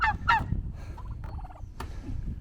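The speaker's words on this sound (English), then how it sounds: "And they're a pretty little bird." Chickens on a French farmhouse property call out in short honking, gobbling bursts, a few distinct calls close by over a low background rumble, with no talking.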